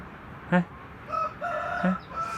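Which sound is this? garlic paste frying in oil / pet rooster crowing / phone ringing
pet rooster crowing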